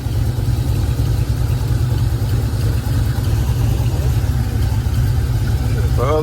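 A box-body Chevy with a newly installed aftermarket cam idles nearby, giving a loud, steady, lumpy low rumble that continues without a break.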